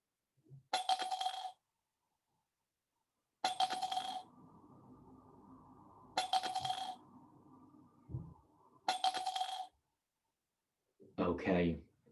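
Four separate bright metallic clinks of 10p coins dropping into a mug, evenly spaced and close, with a quiet hum between some of them and a brief voice at the end.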